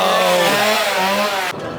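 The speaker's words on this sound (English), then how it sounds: "the Chainsaw Horde is back in Springfield" A chainsaw revs loud and close, its engine whine rising and wavering for about a second and a half before cutting off abruptly, at a Halloween Horror Nights scare zone.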